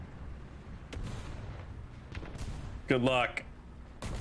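Tank cannon fire rings out in the War Thunder video game: several sharp, booming blasts against a rumbling battlefield backdrop, with a short spoken remark partway through.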